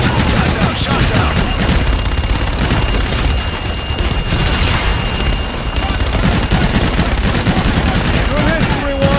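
An artillery strike in Call of Duty: Infinite Warfare: a continuous loud barrage of booming impacts and dense gunfire roars on without pause, with radio voices speaking beneath it.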